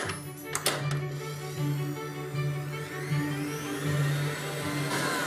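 An electric mixer whips room-temperature egg whites in a bowl for shortbread cookies, a steady close motor whine running throughout, with a few knocks against the bowl near the start; no speech.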